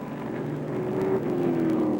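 Race cars run in a 200-mile sprint race, their engines a droning, rising roar with a steady pitch climb, heard from a moderate distance for a couple of seconds.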